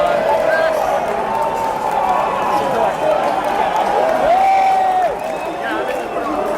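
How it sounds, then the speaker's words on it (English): Excited crowd cheering and chattering on a railway platform as a train pulls in, with a loud wash of voices, a brief rising whistle-like tone partway through, and steady noise throughout. "the crowd were absolutely cheering when they saw the train arriving onto the platform"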